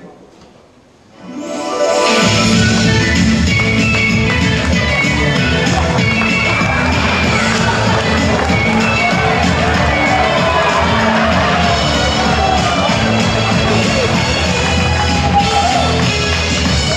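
At a carnival Kappensitzung in Kyllburg, a hall audience bursts into loud, sustained cheering, shouting and applause to welcome three candidates of a flirt-show sketch, rising sharply after a brief quiet opening.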